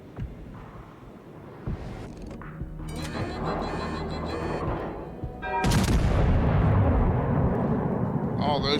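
A World of Warships naval battle in which big ship guns fire a salvo, with scattered booms and then a loud, sustained roar of gunfire and rumble. Someone talks over the shooting.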